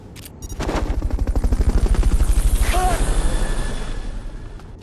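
A helicopter's rotor thumps in a rapid, steady rhythm during a Fulton recovery extraction in Metal Gear Solid Peace Walker HD, swelling louder and then easing, with a brief electronic game tone partway through.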